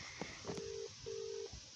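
Telephone keypad dialing of a restaurant reservation number: a few short taps followed by two steady, sustained tones, close and clear over faint background hiss.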